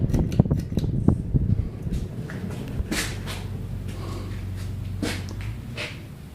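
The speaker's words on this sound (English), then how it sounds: "This fan's a real tornado on high. And now we're going to power it down." A 52-inch Emerson Legend ceiling fan, American-made, powers down from high speed: a few clicks and knocks at the start, then a steady motor hum and airy whoosh that gradually settles, fairly close.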